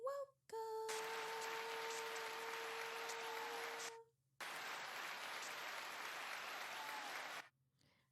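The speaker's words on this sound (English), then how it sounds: "A round of applause to everyone." Applause for a talk-show opening arrives in two sustained bursts separated by a brief silence, fairly quiet overall, with a faint steady tone at the start.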